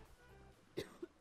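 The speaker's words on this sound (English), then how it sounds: "Stop coughing." A single short cough bursts out at about 0.8 s, followed by a smaller throaty sound, over quiet background noise during a Raft survival game session.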